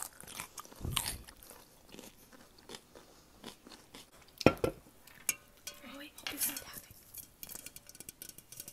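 Crunchy bites of cucumber come up close and fairly quiet, with scattered crisp snaps and chewing between soft handling noises and faint utensil clinks during ASMR eating.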